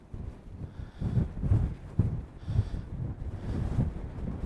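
Strong gusting wind buffets the microphone over the Snake River Canyon, a steady low roar with heavier surges every half second or so, loud and close, with no talk.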